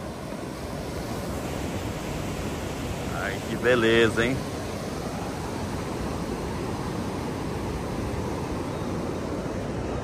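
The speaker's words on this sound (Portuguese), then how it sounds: "Hoje bastante som do mar para vocês aí" Steady roar of surf breaking on the beach at Praia Grande, Brazil, on an overcast day, mixed with wind buffeting the microphone; a voice speaks briefly in the middle.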